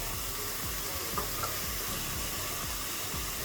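Chicken sizzling and frying in a pan with chili powder and sauce, a steady low crackle running throughout with faint stirring scrapes, alone with no talk.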